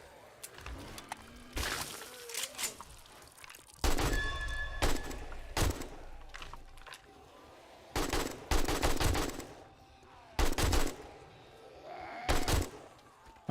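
Video game gunfire in 7 Days to Die: several bursts of rapid shots spaced a few seconds apart, loud and sharp against a quieter ambient background.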